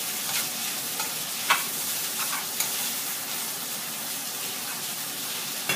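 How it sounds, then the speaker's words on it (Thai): Soaked, cut rice vermicelli noodles stir-fry in a pan for an egg and cha-om dish, making a steady hissing sizzle with occasional louder scrapes and clinks as they are tossed. "ใส่เส้นมีที่แช่น้ำมาตัดไว้นะคะ"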